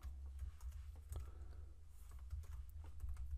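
Typing on a computer keyboard while writing REST API test code, a quiet, steady run of small key clicks with no talk, set against a low constant hum.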